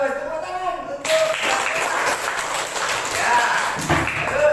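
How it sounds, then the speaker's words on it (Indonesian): Classroom applause as students clap hands together for a classmate, a dense burst of claps starting abruptly and continuing steadily over room noise, with faint talk beneath. "tepuk tangan untuk"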